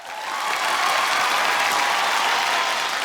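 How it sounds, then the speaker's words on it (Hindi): Studio audience applause on a comedy show, dense steady clapping that swells in and holds loud throughout. "तालियां।"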